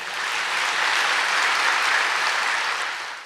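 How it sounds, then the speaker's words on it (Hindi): A large audience claps together in a spiritual class gathering at a hall, a loud, dense, continuous wash of applause that swells slightly in the middle and holds steady, with no talking. "अपने भाग्य की ताली बजाए।"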